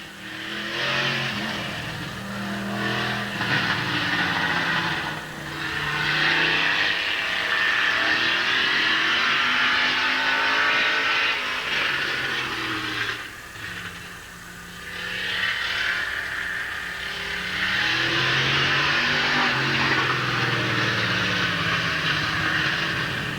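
Race car number 78 from the McMillan Racing Stables roars around the Midvale Speedway track, its engine note swelling and fading as it laps, with the loud pass repeating in waves.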